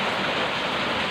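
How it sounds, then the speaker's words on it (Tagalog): Heavy rain pours down in a dense, unbroken hiss, loud and steady for a brief moment. "Ngayon ay sobrang lakas ng ulan dito"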